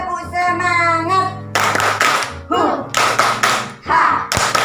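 Schoolchildren perform the rhythmic 'tepuk semangat' spirit clap in an elementary school classroom, with sharp bursts of group clapping falling in patterned clusters between stretches of sung chanting.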